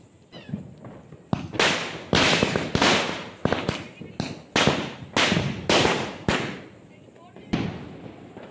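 Firecrackers set off outside a house during a festive morning, a series of sharp, loud bursts in irregular succession, with voices talking between the bangs.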